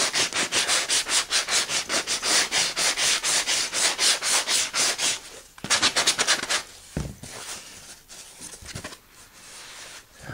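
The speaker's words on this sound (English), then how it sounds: "I'll just get a sand down on the edges." Sanding the edges of a gasket template board by hand, rapid rhythmic back-and-forth rubbing strokes, loud and close, pausing briefly before a few slower, uneven strokes.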